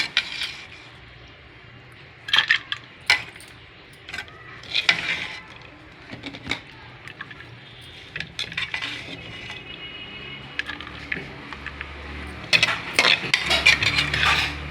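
Utensils clink and scrape against dishes as moringa leaf and moong dal fry is served onto a plate, with a few sharp metallic taps and clatters spread over a quiet kitchen background.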